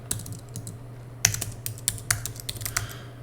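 Fingers typing on a computer keyboard, a quick irregular run of crisp clicks and key taps, close and distinct over a low steady hum, with no talking.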